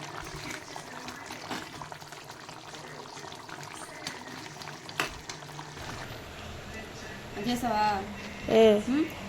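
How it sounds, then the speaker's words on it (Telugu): Chicken for a chicken curry frying in a pan makes a steady crackling sizzle broken by stirring scrapes. Someone talks over it, and a louder burst of pan noise comes near the end. "చికెన్ కర్రీకి అయితే చికెన్ వేసుకొని ఫ్రై అయితే చేసుకుంటున్నాను"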